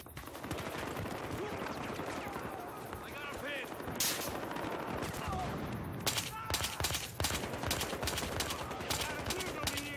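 Dense, continuous automatic gunfire in Battlefield Hardline multiplayer, overlapping rapid volleys and sharper single shots, with a voice talking over it.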